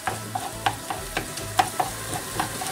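Tomato paste is stirred into glazed onions in a pan over the heat. A utensil scrapes and taps in a loose rhythm over a soft, steady sizzle.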